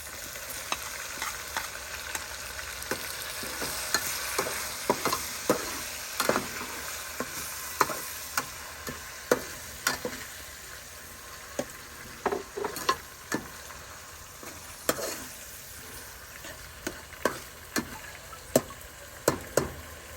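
Tomatoes frying in a pan for egg-and-beef kofta, a steady soft sizzle broken by frequent sharp scraping clicks of a spoon stirring against the pan, with no talk.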